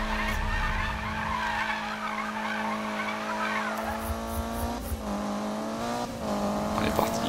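Sustained tire squeal from a car drifting in a Need for Speed game, a steady whining screech over a droning engine that holds for several seconds and wavers near the end.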